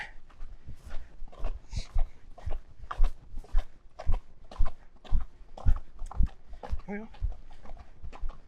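A colt ridden on a dirt road gives a steady series of hoof thuds in a walking rhythm, close and clear, while a rider talks over it.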